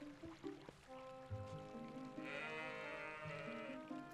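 A goat in The Legend of Zelda: Twilight Princess HD bleats when petted, several quiet wavering bleats over a soft game background of gentle tones and a running-water hiss.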